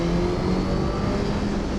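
A 2021 Suzuki GSX-S1000 naked motorcycle engine drones loud and close, a steady revving roar held for the full two seconds with no talking.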